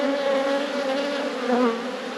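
Honeybees buzz around an open hive during a hive inspection, a dense, steady, close drone that fills the whole moment with no voices.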